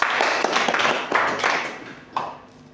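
A church congregation claps for Jesus, giving several loud bursts of applause from many hands, close by and uneven, with short pauses between them and a sharp final clap.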